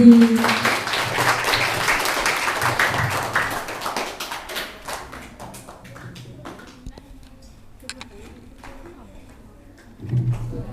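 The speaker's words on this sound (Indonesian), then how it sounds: "Sekali lagi beri tepuk tangan untuk Kakak Izzy." Applause from an audience of schoolgirls at a school Qur'an presentation, loudest at the start and thinning into scattered claps, with a brief voice near the end.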